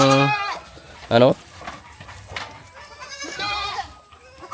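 Goats, a hybrid cross beside pure native goats, bleat on a farm: a clear nearby bleat stands out, with fainter bleats around it and someone talking throughout.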